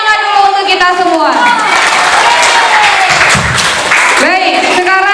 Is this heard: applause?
yes